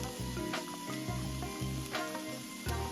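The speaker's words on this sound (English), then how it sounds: "Put in a little olive oil and saute those veggies for about 5 to 6 minutes." Vegetables sauteing in olive oil over medium-high heat for cornbread dressing, a faint soft sizzle with a few spatula stirs, set against a steady background of tonal music; no speech.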